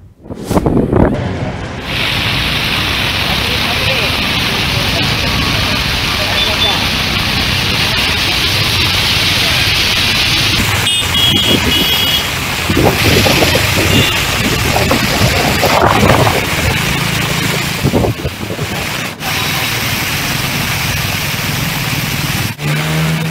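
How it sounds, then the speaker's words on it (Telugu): Strong coastal winds and heavy rain in Srikakulam during a Bay of Bengal depression, with rough seas; loud continuous wind roar buffeting the microphone for over twenty seconds, with occasional gusts and bumps. "తీరం వెంబడి గాలులు బలంగా వీస్తున్నాయి"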